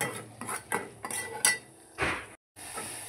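A spoon scrapes and clinks against a metal pan in irregular bursts while masala with red chilli powder and salt roasts for Kolhapur-style egg curry, with one short silent gap near the end.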